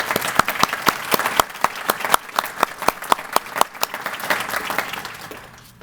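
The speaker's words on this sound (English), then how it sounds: "Let's give the staff a round of applause." Audience applause at a county economic development corporation's annual meeting: a room of people clapping steadily with sharp individual claps standing out, fairly close, fading slightly at the end, with no talk over it.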